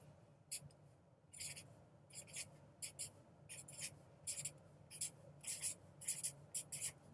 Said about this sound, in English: I want you to write 1 through 10 down your piece of paper.